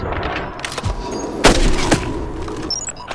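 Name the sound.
gunshot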